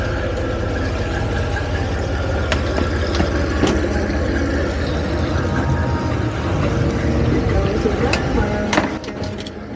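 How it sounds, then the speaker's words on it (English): A marine diesel engine on a 68ft Hampton yacht runs steadily nearby, a low droning rumble with a few sharp clicks and knocks over it, easing slightly toward the end. "I really love the smell of marine diesel exhaust, and the sound is awesome too."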